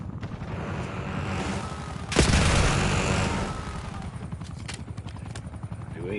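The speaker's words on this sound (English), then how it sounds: "We got a helicopter man." A helicopter thrums during a multiplayer match of Call of Duty: Black Ops 6. A steady rotor-like drone runs throughout, broken around the middle by a loud explosive boom, with scattered gunfire behind it.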